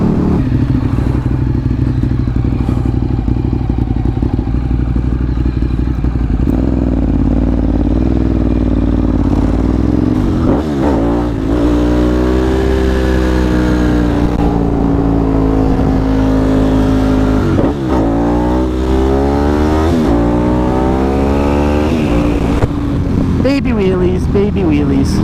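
A small Honda CBR 250 motorcycle revs and rides past on a country road outing, the engine pitch rising and falling through gear changes, loud over wind noise, with people talking in the background.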